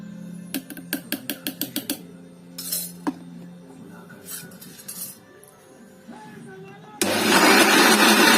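Mixer grinder grinding soaked rice in a village kitchen: a burst of loud, steady whirring motor noise near the end, after a run of rhythmic clinks and clatter from the jar.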